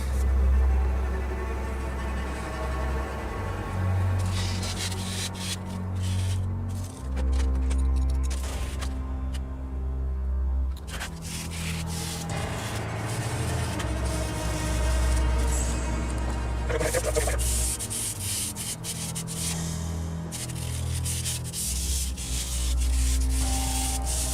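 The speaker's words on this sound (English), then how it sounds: "Now we are going to go through and clean up all of the edges with some sandpaper." Sandpaper rubs along the edges of a homemade fake meat hook for a Halloween prop, a continuous close scratching with a low hum underneath and no talking.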